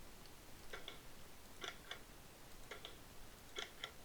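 A Minecraft clock mechanism ticks in faint, evenly spaced clicks, a few pairs of ticks repeating steadily over quiet background hiss.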